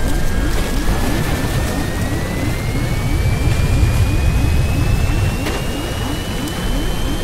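Steady, loud roar of a private jet's engines inside the cabin during the Stranded Deep intro, a continuous whine slowly rising in pitch with no break.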